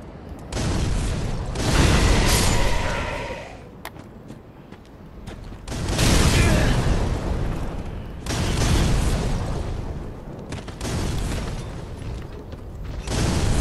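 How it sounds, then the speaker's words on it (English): Explosions in the game Dark Souls 3, several broad rumbling booms rising and fading in waves, loud and close, with crackling debris between the blasts and no talk. "This looks like explosions."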